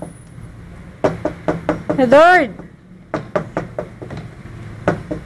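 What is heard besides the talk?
knocking on a door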